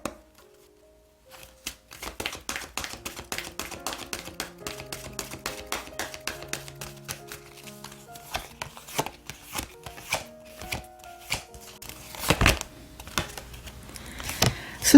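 Tarot cards being shuffled and drawn, a steady run of close, crisp taps and flicks that grows busier and louder toward the end, with no voices.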